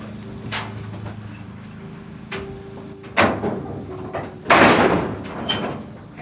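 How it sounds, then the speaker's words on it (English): The middle door of a ChickShaw mobile chicken coop is shut on a homestead, giving a few wooden knocks and then two louder bangs and rattles against a faint steady background hum. "And then we'll shut the middle door."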